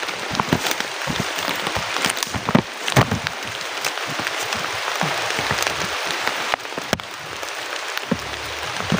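Steady, dense rainfall pours down with a constant hiss and scattered louder drops, loud and close throughout, with no voices.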